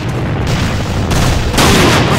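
A grenade blast in the shooter A.V.A on the Castle Rock map bursts as a loud, close, roaring wall of noise that swells and stays dense for a couple of seconds amid surrounding gunfire.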